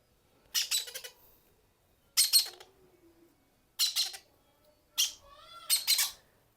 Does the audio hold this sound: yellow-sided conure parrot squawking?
yes